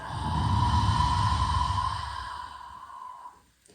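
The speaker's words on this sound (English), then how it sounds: "Exhale through your mouth." A long, deep exhale through the mouth during a somatic yoga breathing exercise, a close, breathy rush that holds steady and then slowly fades out over a few seconds with a faint tone lingering underneath.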